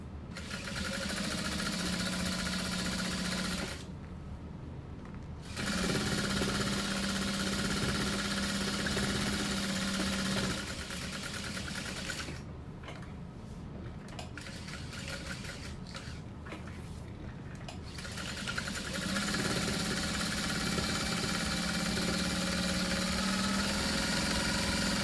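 A sewing machine back stitching a handbag runs in a steady mechanical whir, stopping briefly twice and then starting up again, close and continuous.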